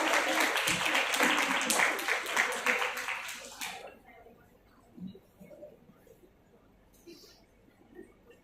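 Audience applause for a law college team called to the stage at a national moot court competition, a dense burst of clapping for nearly four seconds before it cuts off, leaving quiet room noise with a few faint scattered sounds.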